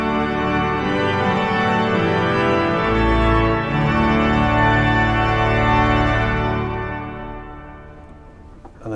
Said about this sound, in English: so the full great chorus sounds a bit like this.